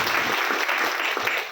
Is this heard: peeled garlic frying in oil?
no